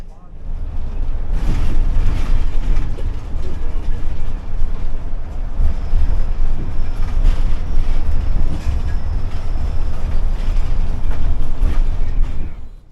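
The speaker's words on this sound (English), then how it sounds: "the ride quality on board this bus is so smooth" Steady interior rumble of a Copenhagen bus in motion, a continuous loud low drone with road noise and faint rattles throughout, with some talking over it.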